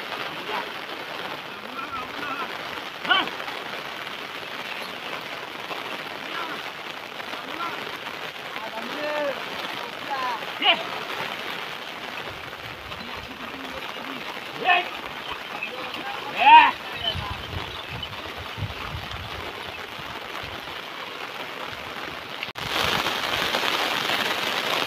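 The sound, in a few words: heavy rain falling on rice paddy fields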